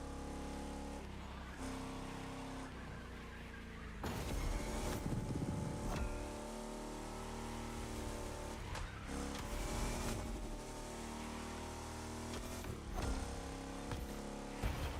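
A car engine roars continuously in the racing video game The Crew Motorfest, with loud revving, gear shifts and tire squeal during cornering, sustained and close throughout with no speech.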